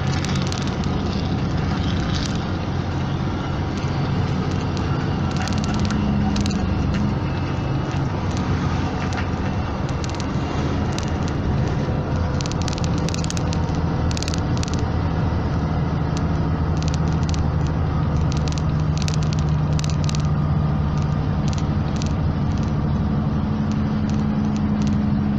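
A car coasting down a winding mountain road in the Andes in sixth gear without braking, following a truck, makes a steady, loud engine and road drone throughout.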